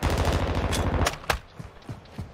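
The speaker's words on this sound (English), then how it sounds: "Getting shot up on the hill." Rapid video-game gunfire: a loud, dense burst of automatic shots for about a second, then several scattered single reports fading off, with no talk.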